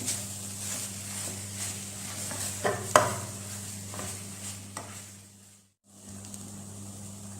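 Chicken samosa filling being stirred in a pan, soft scraping and occasional utensil knocks over a low steady hum, with a brief moment of near silence.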